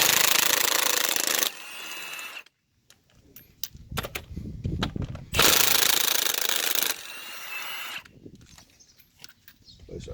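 An impact wrench rattles off the wheel lug nuts on a 2009 Ford Taurus X, loud and close, in two long sustained hammering bursts with quieter clanking and handling noises between them.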